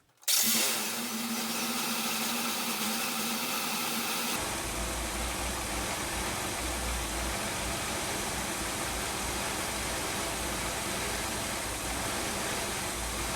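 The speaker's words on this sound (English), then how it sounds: "Start the car." A Ford Freestar minivan engine cranks and starts up, then settles into a steady, loud idle that continues without a break, its low rumble persisting throughout.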